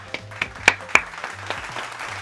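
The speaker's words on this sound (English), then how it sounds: "Round of applause, you guys." A handful of sharp, separate hand claps from one person at a reading vlog, uneven and close by over a low steady hum, trailing off near the end.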